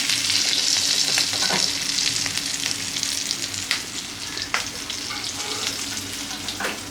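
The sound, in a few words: prawns frying in oil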